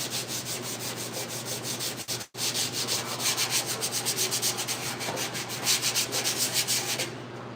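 Rough 80-grit sandpaper scrubs the back side of a 1968 C10 fender in quick, steady, rhythmic strokes, up close and alone, with a brief pause partway through before the sanding resumes.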